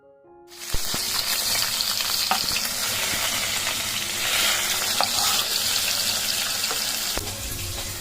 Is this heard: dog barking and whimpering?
no